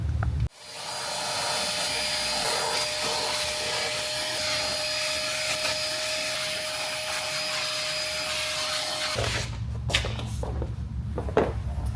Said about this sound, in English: I decided to bust out the vacuum and give it a good clean